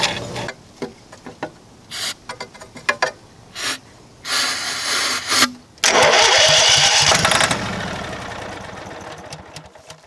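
A portable electric generator's gas engine, unused for about two years, is cranked several times in short bursts, then catches and runs loudly and close by before settling slightly.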